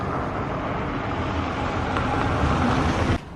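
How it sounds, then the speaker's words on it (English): A car drives past a popular lookout spot in Tasmania with a broad, steady road rumble and wind that swells slightly before cutting off abruptly near the end. "Cars keep driving past because we're in a popular lookout spot, so that's what the noise is"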